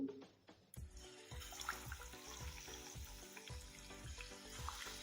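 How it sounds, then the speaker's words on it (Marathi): Battered vadas for kadhi vada slipping into hot oil, followed by a steady broadband sizzle of deep frying with recurring low thumps and bubbling, moderately loud and close, with no one talking. "तेल गरम झालेलं आहे आपण पिठात बुडून घेतलेला वडा तेलामध्ये सोडू"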